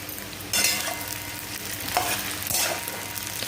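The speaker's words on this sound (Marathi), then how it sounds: "त्यानंतर आपण भिजलेले साबुदाणे खिचडीमध्ये टाकून घेणार आहोत" Soaked sabudana being stirred into potato khichdi in a pan, with steady scraping and soft sizzle, two sharper stirring strokes standing out near the middle and end, close and moderately loud.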